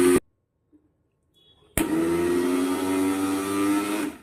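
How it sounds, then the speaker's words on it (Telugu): Mixer grinder blending ragi flour cake batter sweetened with jaggery: after a near-silent pause, the motor kicks in abruptly and runs as a loud, steady whir with a rough churning edge, with no talk. "ఇప్పుడు మళ్ళీ మిక్సీ కొట్టుకోవాలి"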